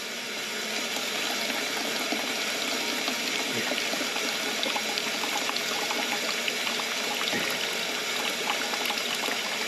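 Water rushes steadily through a neglected, muddy steam boiler as it is filled and drained, a loud continuous splashing flow with a couple of faint knocks and no talking.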